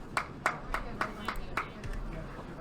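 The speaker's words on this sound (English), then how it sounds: "You get the golf clap" Sparse, polite golf clap from spectators at a professional bowling finals, about six separate claps spaced evenly over a couple of seconds against a murmuring crowd-room background.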